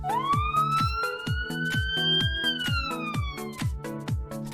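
An ambulance siren sound effect wails in a rising, slowly falling tone over a steady rhythmic pulsing pattern, loud and continuous with no talk.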